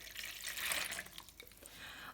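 About half a litre of water is poured into a bowl while making lagman dough: a faint, brief splashing trickle that swells and then tapers off, with no talking.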